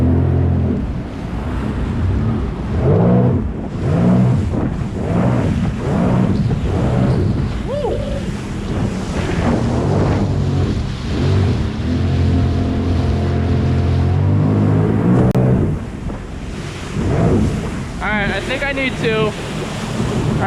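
A 2021 Sea-Doo Trixx jet ski runs on open water with wind buffeting and splashing waves, its engine rising and falling through throttle bursts, loud and close throughout.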